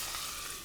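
Chopped onions frying in a pan for sambal kluwak, a soft continuous sizzle close by that ends with a brief louder clatter.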